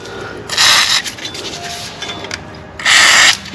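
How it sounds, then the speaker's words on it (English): Two short hissing bursts of WD-40 spray onto a Club Car golf cart rear brake lever, loud and close, with faint rubbing and handling noises between them. "So we'll go ahead and douse this down with some more WD-40."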